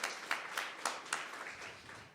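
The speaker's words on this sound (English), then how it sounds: "also another round of applause for civil.com for sponsoring this event." An audience at a debate event applauds, a faint, distant spread of clapping with a few sharper claps standing out, tapering off over two seconds with no talking.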